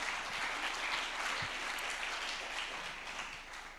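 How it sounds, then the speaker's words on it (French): Workshop participants applaud themselves in a room, a dense, continuous wash of clapping at moderate distance that holds steady and tapers slightly at the end. "Ouais, bravo, vous pouvez vous applaudir."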